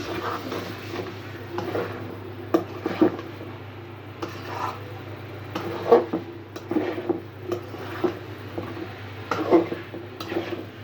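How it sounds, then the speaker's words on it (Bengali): Potato pieces cooking in a pan for a Bengali small-fish dish, heard as a low steady background with repeated scraping and stirring clatters of a utensil against the pan at uneven intervals. "আলুটা দিয়ে ভেজে দিচ্ছি"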